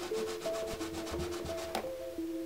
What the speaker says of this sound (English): I'm just going to start wiping off some of the scuff marks.